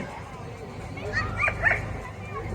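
A dog in a training session being placed in a sit, giving a few short whimpering yips over a low steady background, with people talking.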